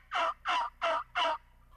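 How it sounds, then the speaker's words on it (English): Wild turkeys gobble in the spring woods, four evenly spaced, fairly loud gobbles in a quick row, with quiet gaps between them. "maybe 4 or 5 different turkeys gobbling right now"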